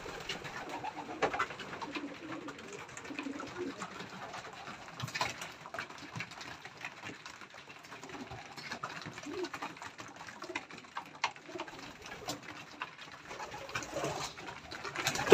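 Young pigeons in a loft compartment coo softly and continuously, faint murmuring calls layered with light rustling and scattered small knocks, with no clear talk over them.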